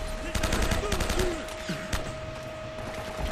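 Gunfire crackles in Uncharted: Drake's Fortune as a brief rapid volley in the first half, fading into game ambience, with a voice over it.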